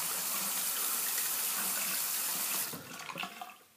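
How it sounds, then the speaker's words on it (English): Bathroom tap water running steadily into a sink as a face is wet before a shave, a loud close rush of water that cuts off near the end, leaving a few drips and small splashes. "I'm just going to go ahead and wet my face"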